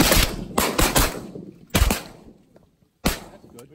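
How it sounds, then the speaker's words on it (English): Shotgun blasts boom outdoors while duck hunting in Wisconsin, a quick cluster of loud close reports followed by two more spaced shots, each ringing briefly into the open air. "We did good shooting."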